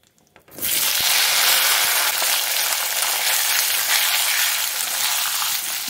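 Asafoetida hits hot oil in a wok with a sudden burst of loud, hissing sizzle that starts after a brief quiet moment and continues steadily, close and bright.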